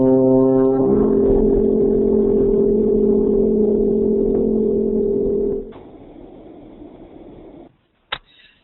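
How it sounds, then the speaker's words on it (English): A sustained horn tone on a C rings loud and steady for about five seconds, then fades into a softer sung A with faint rising harmonics, ending in quiet with a brief click. "Horn playing the C, and then I'm going to sing the A."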